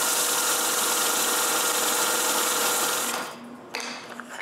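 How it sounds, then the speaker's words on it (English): A belt sander grinds thin pieces of scrap walnut in a steady, loud, close whine for about three seconds, then cuts out abruptly, leaving a quieter tail with a brief restart near the end. "I sand those thin pieces."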